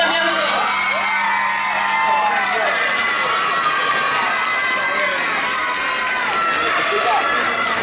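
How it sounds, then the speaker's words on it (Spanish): A crowd at a Valencian falla playback contest cheers and whoops loudly and continuously, excited shouts and yells blending into a sustained roar with scattered high voices. "¡Un fuerte aplauso!"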